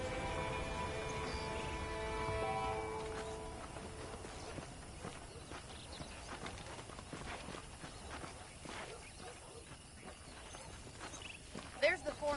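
Horse hooves clip-clop on the ground in the Red Dead Redemption video game, a quiet irregular series of soft thuds at a walking pace, at first under lingering music and then mostly alone, ending in a few louder knocks.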